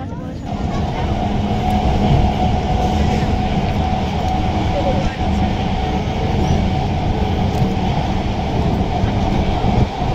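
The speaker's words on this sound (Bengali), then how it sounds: "চলো ট্রেন চলে এসেছে" A train pulls into a station with a steady, loud rumble of rolling wagons and wheel noise running throughout, broad and continuous, with faint voices mixed underneath.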